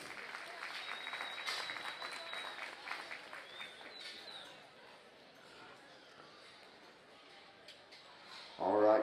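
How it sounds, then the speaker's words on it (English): A round of applause for crossbred gilt exhibitors at a junior livestock show, steady clapping from the crowd that rises and fades, with a louder burst near the end. "let's give them a nice round of applause"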